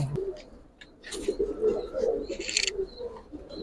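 Giribaz pigeons coo softly and repeatedly nearby, their low throaty calls overlapping with a few brief chirps and faint background rustle.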